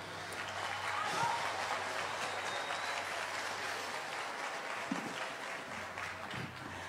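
Crowd clapping and applauding at a night concert of Ayacucho music, a dense steady wash of hands with some voices mixed in.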